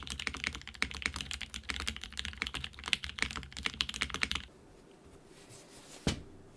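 Fast, crisp clacking of typing on a mechanical keyboard with standard ABS keycaps and T1 switches, a dense run of close keystrokes that stops after four seconds, leaving faint hiss and one last click.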